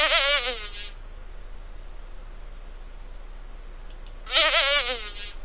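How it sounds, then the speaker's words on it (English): Two short bursts of cartoonish bee buzzing in a Dora the Explorer memory game, each a wavering, warbling drone lasting under a second, separated by a quiet pause. "Let's buzz along with the bees."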